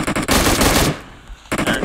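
Loud bursts of automatic gunfire from the mobile battle-royale game PUBG Mobile, with a long burst, a short pause, then another burst close up.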